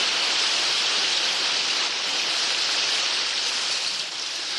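Heavy rain pours down steadily as a sound effect on a vintage Halloween ghost story LP, a dense, loud, even hiss with no speech over it.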